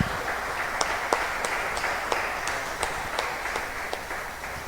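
A church congregation applauding in welcome for their pastor, steady crowd clapping in a reverberant hall with a few sharper, louder claps standing out, moderately loud throughout.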